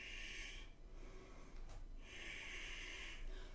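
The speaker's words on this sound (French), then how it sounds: "Et respire." Slow, airy breaths during a yoga session, two long hissing exhalations separated by a brief quieter pause, close and soft over a faint background rumble.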